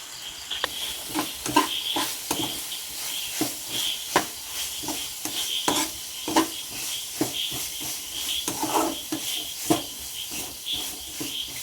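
A spoon stirs garam masala and pepper powder into a pan of crow meat curry, making steady rhythmic scraping strokes over a soft, continuous sizzle.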